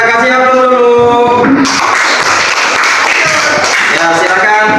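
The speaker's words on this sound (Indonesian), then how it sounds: "Ya, kita kasih aplaus dulu." Audience applause at an Indonesian group gathering: after a brief tonal voice at the start, dense, steady clapping takes over and stays loud and close.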